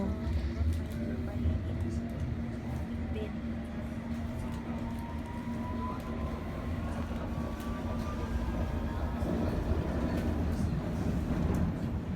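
Steady rumble of a moving train in London heard from inside a carriage, with a low hum, faint rail squeals and murmuring voices in the background.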